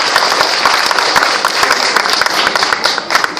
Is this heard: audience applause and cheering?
yes